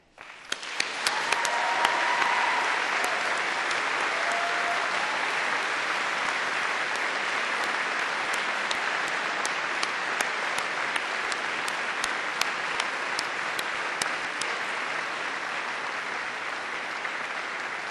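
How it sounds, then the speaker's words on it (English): Graduates at a Cardiff University graduation ceremony for biosciences, maths and music give a long, sustained round of applause with some cheering, starting abruptly and holding steady through the hall. "a huge round of applause and a cheer to all of them"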